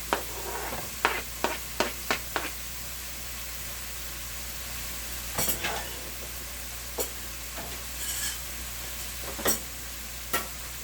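Carrots and other vegetables for pancit bihon are stirred in a sizzling pan, giving a run of quick scraping strokes early on and scattered clinks and scrapes later over a steady frying hiss, close and with no talking.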